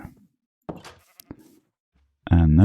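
A Minecraft sheep bleats in a cozy build, with faint soft clicks and short game sounds earlier, then one loud, wavering bleat close by at the end.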